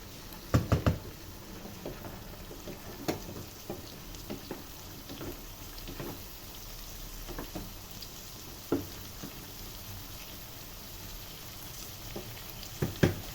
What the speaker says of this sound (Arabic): هنحمر ده كله مع بعض